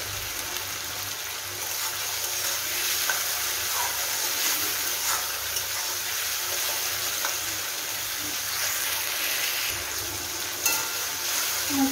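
Tomatoes fry in a pan with a steady, fine hiss and crackle that stays even and moderately close throughout, with no talking over it.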